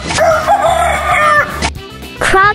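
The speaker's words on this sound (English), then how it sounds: "Chicken." A rooster crows a loud, close cock-a-doodle-doo, with a short clucking call at the end, over background music.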